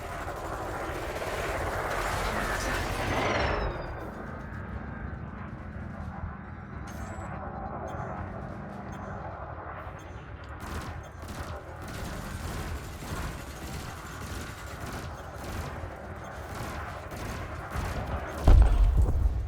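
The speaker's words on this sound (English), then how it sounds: "Ahí ya derribamos los escudos, podemos usar todas nuestras armas para dañar su nave" Ship weapons in the space combat game Elite Dangerous fire in rapid mechanical bursts at target drones, a dense clattering rattle under steady engine drone, with a louder burst near the end.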